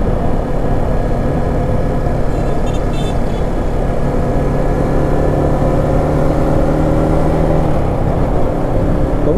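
A Yamaha Exciter 155 VVA motorcycle with about 5,500 km on it runs steadily at night in Soc Trang city, a close, continuous mid-pitched engine drone with a slight rise and fall throughout.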